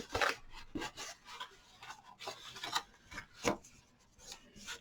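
A bone folder is rubbed firmly over paper to crease the edges of a hexagonal gift box, giving a series of close, dry scraping strokes in irregular bursts, with no talking.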